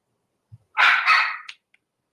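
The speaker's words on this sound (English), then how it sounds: "dog is barking." A dog barks once, a loud close bark followed by a short whining tail and a faint yip, in an otherwise quiet room.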